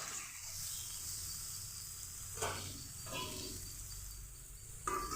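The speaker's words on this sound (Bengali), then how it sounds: "ঢেকে দিয়ে হালকা জালে ভেজে নেব আস্তে আস্তে করে।" Fish roe with potato and eggplant frying gently over low heat in a covered pan, a continuous faint hissing sizzle with a couple of soft lid or utensil knocks, no talking.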